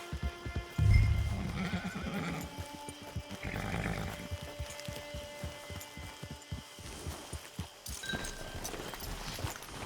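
Horse in Red Dead Redemption 2 Online near a camp gives a loud, close whinny early on, followed by a steady run of clip-clopping hooves over a low, game-world ambience.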